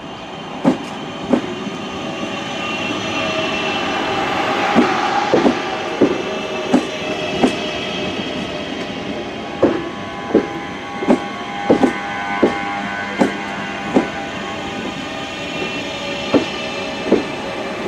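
A passenger train on the Woodhead Route near Glossop rolls along the tracks with a steady rumble, rhythmic clickety-clack of wheels over rail joints repeating every second or so, fairly close and loud.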